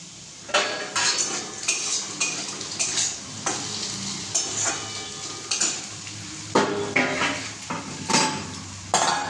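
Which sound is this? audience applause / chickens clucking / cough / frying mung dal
frying mung dal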